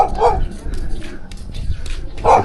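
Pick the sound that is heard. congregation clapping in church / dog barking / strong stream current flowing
dog barking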